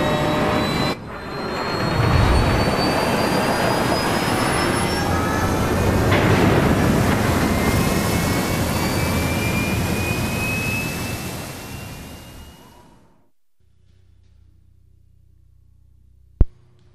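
An airplane's jet engines roar during takeoff in Splinter Cell Blacklist, a loud sustained rumble with whining tones that swells, then fades out, followed by quiet and a sharp click.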